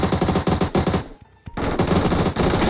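Rapid automatic gunfire from the PUBG Mobile shooter game, played on PC, rattles loud and close in dense bursts, breaks off for a brief moment, then resumes just as hard.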